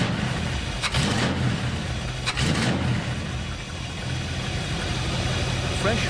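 An old, long-abandoned Ford Galaxie engine runs steadily after its first start in decades, a loud continuous idle with a couple of brief louder bursts.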